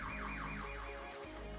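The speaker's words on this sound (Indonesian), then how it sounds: "gunakan kunci tersebut untuk menyalakan alarm mobil dan menakut-nakuti pencuri tersebut" A car alarm wails with rapid, repeating rising sweeps over a loud low hum, sounding close and continuous with no voices.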